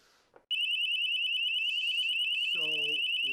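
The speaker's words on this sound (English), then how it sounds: "we'll swap it from the doorbell chime to the alarm" A WiFi smart door and window sensor alarm, switched from doorbell chime to alarm mode, blares a loud continuous high-pitched electronic tone close by, with a voice speaking over it near the end.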